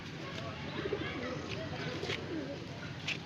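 Large Babra pigeons, the prized breed of Bareilly, coo softly in a low, continuous murmur, with faint chirps and a voice or two in the background.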